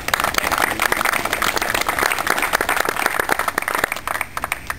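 An audience applauds with dense, steady clapping that fades slightly toward the end.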